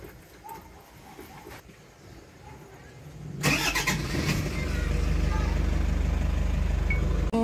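A Toyota Hiace van's engine cranks and fires up after a few quiet clicks and rustles, then settles into a steady, loud, close idle hum.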